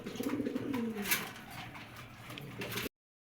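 A pair of round pigeons cooing close by in soft, rolling low coos at the start, then quieter rustling, with no one talking.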